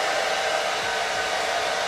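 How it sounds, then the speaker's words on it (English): A blow dryer on a warm setting runs steadily throughout while drying a quick weave bob hairstyle, loud, close and unbroken, with a constant airy roar and no voices. "now I'm just going to be going in with my blow dryer and just blow drying this on a warm setting."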